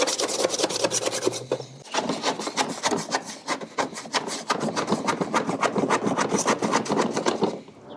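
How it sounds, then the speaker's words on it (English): A spatula scrapes caked grass debris out of the underside of an EGO electric mower deck in rapid, rhythmic rasping strokes, loud and close, with a short pause near the start and no talking. "Just getting in there, trying to get the little chunks out of there"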